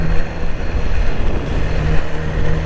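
BMW S1000RR sport motorcycle riding along, heard as a loud continuous engine drone mixed with strong wind buffeting on the microphone, no voices over it.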